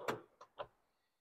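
Push-to-open spice drawer in a camper trailer kitchen, three quiet close clicks and knocks in quick succession, then silence.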